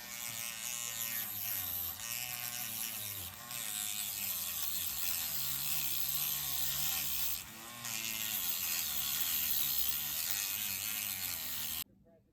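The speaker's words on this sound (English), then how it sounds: "Let's start with a wire wheel." A wire wheel spins against the die-cast metal base of a Matchbox Superfast 62B Cougar Dragster toy car. It makes a steady, close whirring grind with slight dips for about twelve seconds, then cuts off abruptly.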